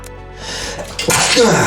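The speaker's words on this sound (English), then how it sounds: "Sorry, that was a sneeze." A single sneeze bursts out abruptly near the end of a brief stretch of quiet room tone.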